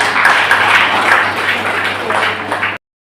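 Church congregation clapping loudly in thanks to the Lord, a dense, close burst of applause lasting a few seconds before cutting off abruptly.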